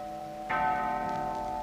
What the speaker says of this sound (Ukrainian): І вдарили дзвони.